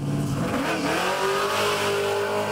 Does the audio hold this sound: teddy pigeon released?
no